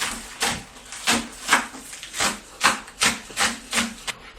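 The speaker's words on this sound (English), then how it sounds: "now we're going to cut our red chilies as well as our spring onions" Red chilies and spring onions being chopped on a board, about ten crisp knife strikes in an uneven rhythm, close and clear, with no talk over them.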